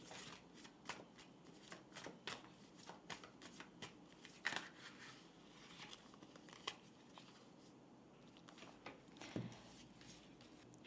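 Tarot cards shuffled in a quiet close setting, a steady run of soft riffling and slapping card sounds with brief crisp snaps, faint and unhurried, with no voice over it.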